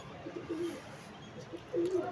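Pigeons cooing in cold winter weather in Lahore, with two low, soft coos about a second apart heard nearby over a quiet outdoor background.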